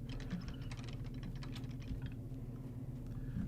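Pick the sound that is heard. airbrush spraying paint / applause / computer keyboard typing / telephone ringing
computer keyboard typing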